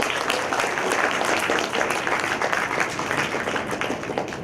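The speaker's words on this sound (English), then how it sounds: "I request you today to give big applause to your parents, to your teachers" Sustained applause at a graduation ceremony as the audience claps for parents and teachers, a dense, steady patter of many hands filling the hall for several seconds.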